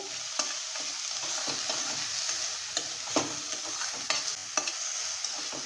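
Onion fries in a pan with a steady, moderate sizzle, broken now and then by sharp scraping clicks as a spatula stirs it.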